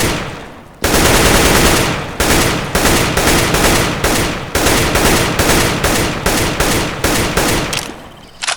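Sustained automatic rifle fire in CS:GO while the player keeps moving, loud and close, in rapid bursts of gunshots separated by very brief pauses, with no voices.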